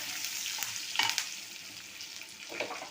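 Tempering spices with onion, dried red chillies and curry leaves crackle and sizzle in hot oil, with a few sharper pops and spoon stirring sounds over a steady fry.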